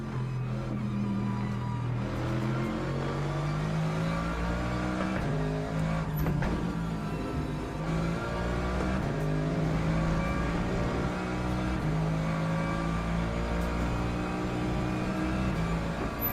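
Race cars in Le Mans Ultimate drone steadily with engines rising and falling through gear changes, including a Porsche, as a continuous motorsport engine sound without talk.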